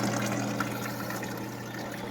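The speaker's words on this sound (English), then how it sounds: "Water is starting to seep down through there on both sides." A swamp cooler's pump runs with a steady close hum while water trickles and seeps down through a fresh filter pad, a continuous soft wash of liquid with no talking.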